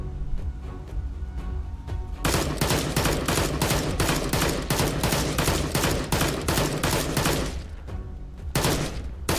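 Rapid bursts of gunfire from the VR shooter game Immortal Legacy: The Jade Cipher, loud sustained fusillades of closely spaced shots after a brief quiet lead-in, with a short pause near the end.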